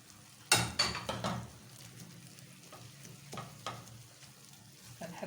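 Chopped onions sizzle in a pan with kofta minced meat, a burst of frying hiss and clattering stirs at first, then quieter sporadic scrapes and pops over a soft steady sizzle.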